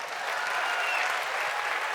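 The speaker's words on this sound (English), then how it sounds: "please give us thunders of applause" A theatre audience at a dance company performance for World Ballet Day gives steady, dense applause, a continuous wash of many hands clapping at even loudness throughout.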